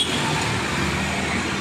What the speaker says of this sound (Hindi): ये बस जा रही है,